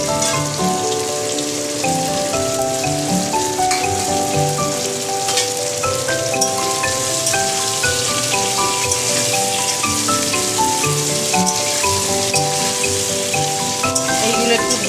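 Pumpkin pieces fry in hot oil for a Bengali pui shak dish with hilsa fish head, giving a steady, close crackling sizzle throughout with soft tonal music underneath.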